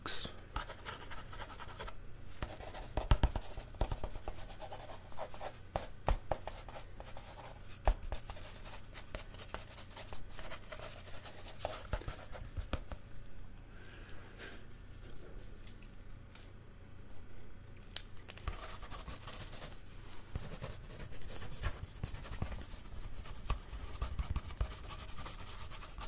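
A pencil sketches on paper in close, intimate detail, with continuous scratchy strokes and taps of varying pace and pressure and brief pauses, over about twenty-five seconds.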